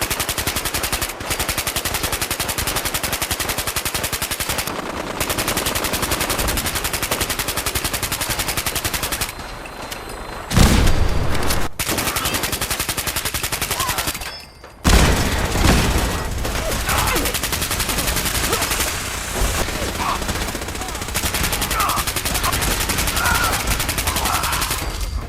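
Dense, sustained automatic gunfire in Fallout 4, rapid loud bursts that roar almost continuously, broken by a couple of brief pauses and heavy impacts.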